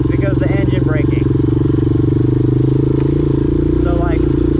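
A Honda TRX250X or Yamaha Raptor ATV engine braking, a close, steady low engine drone with a throbbing pulse, while a person talks over it.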